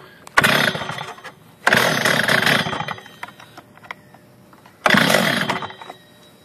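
A German-made Stihl TS400 cutoff concrete saw cold-starts close by: three loud bursts of two-stroke engine roar, each lasting one to two seconds, separated by quieter idling sputters and mechanical clatter, with no voices.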